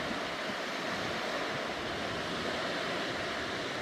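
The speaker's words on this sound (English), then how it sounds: "the water's pretty rough" Rough ocean surf breaks steadily on a hazy, deserted beach after rain, a continuous loud wash of waves with wind noise and no voices.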